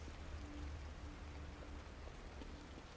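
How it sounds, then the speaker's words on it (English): Rain falls steadily in the video game The Evil Within, a faint, even hiss of drops with no other sounds over it. "Rain is going to wash away any evidence."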